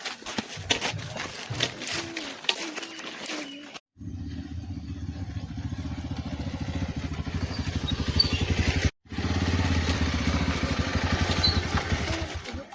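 A motorcycle engine idles and revs nearby with a steady throbbing rumble, briefly cutting out twice, after some background chatter at the start.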